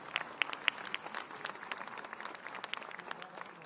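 An audience at a National Youth Day 'Youth as Job Creators' event applauds award winners with steady, fairly faint clapping from a crowd, a few sharper claps standing out at the start.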